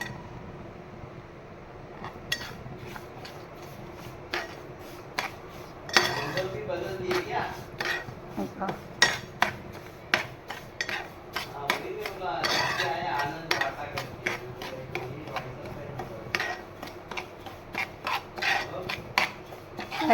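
Semolina (rava) roasts in ghee in a pan while a metal spoon stirs and scrapes it, giving irregular clinks and scraping taps over a faint sizzle, close and moderately quiet.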